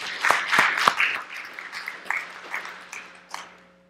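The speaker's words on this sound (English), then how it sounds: "why don't we all clap for one another and celebrate that fact?" A church congregation applauding together, a short burst of scattered, moderately loud claps that thins out and fades over a few seconds.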